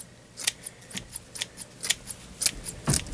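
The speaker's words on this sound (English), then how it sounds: "now I just go set over the trash can and I trim it. And I just start cutting." Scissors snip repeatedly at a bottle brush tree held over a trash can, a steady series of a dozen or so crisp close cuts with short pauses between them.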